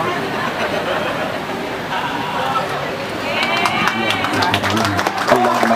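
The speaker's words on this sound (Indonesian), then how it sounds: "Tepuk tangan yang meriah." An audience at an Islamic religious gathering for the inauguration of the Cordova Mosque in Jakarta bursts into applause, with dense clapping that builds and grows louder alongside crowd chatter.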